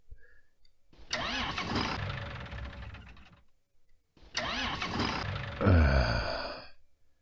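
A John Deere tractor engine in Farming Simulator 19 cranks twice, the starter grinding for a couple of seconds each time; on the second attempt the engine catches briefly with a rougher roar before dying away.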